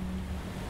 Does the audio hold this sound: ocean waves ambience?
yes